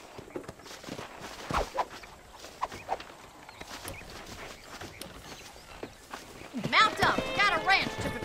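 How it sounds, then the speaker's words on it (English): Horse hooves clip-clop at a walking pace during a ride in the Western game Red Dead Redemption, soft, irregular hoofbeats under steady in-game talk, with brighter chirping sounds near the end. "let's see if you can still ride a horse"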